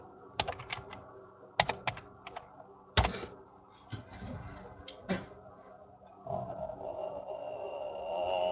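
Computer keyboard typing during indie game development in Unity, in a few quick bursts of close, crisp key clicks separated by pauses, with a steady low hum underneath.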